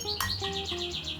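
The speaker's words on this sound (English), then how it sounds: "The birds are so loud." Several birds chirp loudly and repeatedly outdoors, a quick series of bright, close tweets over a low background hum.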